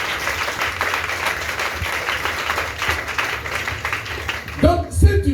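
A church congregation claps together in a sustained, fairly loud wave of applause that fades near the end, where a voice comes in speaking.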